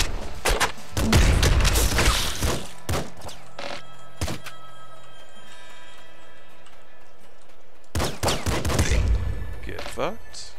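Weapon fire in the top-down shooter Nuclear Throne, including a newly picked-up grenade launcher: loud bursts of thumping shots and impacts over a game music bed, in two dense clusters separated by a quieter stretch.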